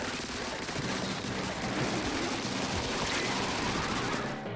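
Rapid, sustained enemy gunfire in the Splatoon 3 video game's Big Run mode, a constant dense rattle of shots filling the scene with faint voices underneath.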